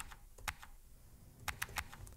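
Quick keystrokes on a computer keyboard at a terminal, a single tap near the start and a tight burst of three or four clicks later, light and close against a quiet room.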